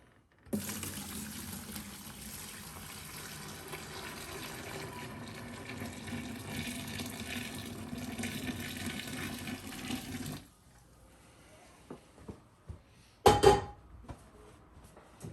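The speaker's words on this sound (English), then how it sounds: "now I'm just gonna carefully pour this hot wax slurry" Hot beeswax slurry pours steadily into a bucket for about ten seconds with a rushing, splashing flow, then stops, followed by a few faint clunks and a short sharp clatter.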